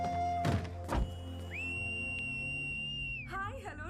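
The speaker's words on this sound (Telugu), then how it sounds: "అబ్బా ఏంట్రా ఈ పిల్ల రౌడీ ఎలాగా విజిలేస్తుంది?" A girl lets out a loud, sustained finger whistle, a steady piercing tone lasting about two seconds that ends in a wavering trill, following two heavy thuds in a tense action scene.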